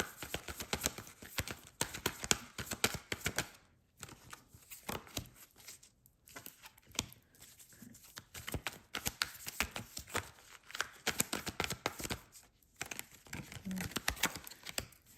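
Quick, papery riffling and tapping as tarot cards are shuffled close by, in irregular bursts broken by brief pauses.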